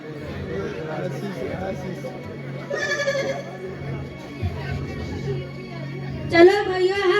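Sheep bleat during a church youth Christmas skit, several wavering cries rising over murmuring crowd chatter and voices, with one louder bleat near the end.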